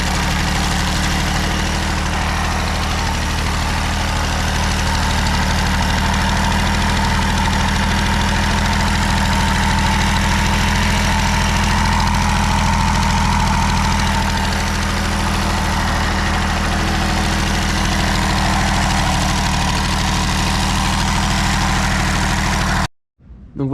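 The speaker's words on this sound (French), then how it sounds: "Donc là le moteur tourne." Rebuilt Peugeot 103 moped two-stroke engine runs steadily at idle for over twenty seconds, a loud, continuous buzzing drone with a fast pulsing rhythm, cutting off abruptly at the end.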